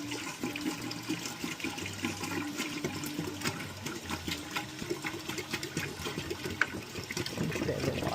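Water pours steadily into a Phoenix Gravity water filter on a canal boat, a continuous close splashing and filling sound running alone for several seconds with no talk.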